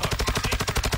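Rapid automatic gunfire from a first-person shooter game rings out in a loud, steady burst of about ten evenly spaced shots within a second.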